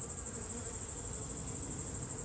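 Honeybees buzz around a hive in an apiary, a steady high droning hum that fills the short stretch without any voices.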